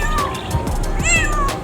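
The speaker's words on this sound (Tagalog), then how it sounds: "may pusa." A cat meows loudly and close by indoors, with two or three drawn-out, rising and falling calls in quick succession.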